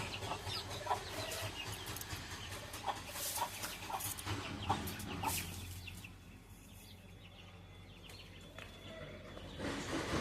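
Several chickens cluck in short, repeated calls nearby, busy at first and thinning out later, over a low background hum.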